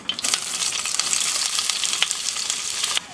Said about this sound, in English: you would want to put in the fennel first and sear it for about 5 minutes